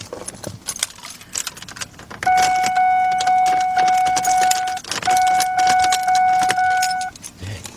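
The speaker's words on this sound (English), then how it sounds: "Put our key in." Keys jangle close up while one is slid into the ignition of a Ford Explorer, followed by a steady electronic chime that repeats in two long stretches.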